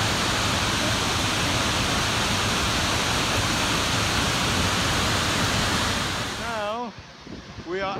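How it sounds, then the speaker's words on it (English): Loud, steady roar of water gushing down a waterfall, heard from behind the falls, close by and filling the whole sound, fading briefly near the end. "We are actually behind the waterfall. The whole water's gushing down."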